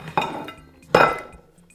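Two sharp clinks of a plate being handled in a kitchen while serving fried beans, each a bright ringing hit that decays over a moment, close and alone with no talk.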